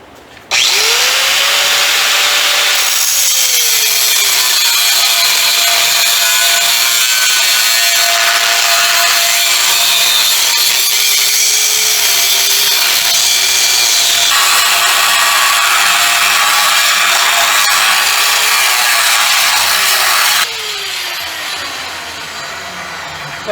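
A cutoff wheel slices through a steel trailer frame with a loud, continuous, close screech that runs for about twenty seconds, its pitch shifting as the cut progresses, then winds down.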